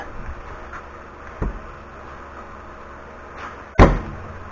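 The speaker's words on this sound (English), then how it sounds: "So hitting my tire did the trick." A 2018 Chevy Malibu tire struck by hand during trailing arm replacement: two sharp thuds, a lighter one early and a louder, heavier blow near the end, over quiet garage background.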